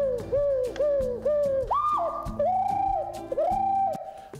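A handmade musical instrument, some of which are built from recycled material, imitates an owl with a series of close, repeated hooting tones that bend and slide in pitch, heard alone.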